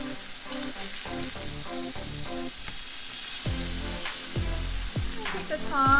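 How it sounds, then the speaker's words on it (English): Steaks sizzle steadily in a hot pan after being flipped, a continuous close frying hiss with soft knocks and stirring clatter over it, while background music plays. "Let's give our steaks a flip."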